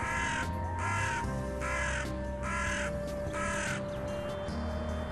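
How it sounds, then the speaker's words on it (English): Several jackdaws call in repeated harsh, squawking bursts in Kazakhstan, overlapping and fairly near, against a faint background hum. "Flocks of jackdaws make lots of noise."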